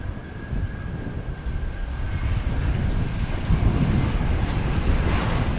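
American Airlines Airbus A321 arriving from Los Angeles at DFW, a low rumbling jet engine roar that grows gradually louder and stays steady, with faint wind noise and no speech.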